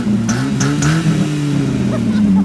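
A car engine revs near a street cruise on Woodward, the low engine note steady and loud with brief higher bursts, while people talk nearby.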